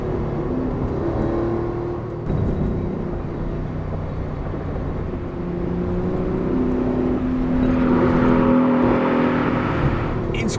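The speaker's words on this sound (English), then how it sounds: "This is an RS flywheel, so the engine spins pretty freely." A Porsche 964 RS engine fitted with a lightweight RS flywheel revs freely and loudly, rising and holding through the rev range with a steady droning tone and no voices over it.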